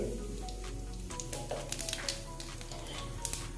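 Nigella seeds and a dried chili dropped into hot oil sizzle steadily, close and quiet, with a soft frying hiss and a few small crackles and pops and no talk.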